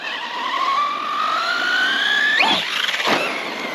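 A 6S-powered SHIROI RC car hits a ramp and takes a burst of throttle, its electric motor whine rising steadily in pitch, then jumping sharply before cutting out with brief clattering.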